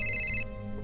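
A mobile phone ringtone plays a brief, bright electronic tone that stops abruptly partway through, over a low background hum.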